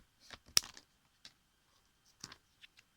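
Quiet, close snips of scissors cutting through stiff cardboard tube, a few short crisp cuts spaced irregularly with silence between.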